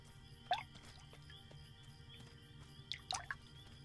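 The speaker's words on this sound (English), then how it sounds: "Bunch of dwarves throwing pebbles in the water." Pebbles plopping into water in the Lord of the Rings Online game, thrown by dwarves: a few small, faint drips and splashes, one near the start and a cluster near the end, over a low ambient hum.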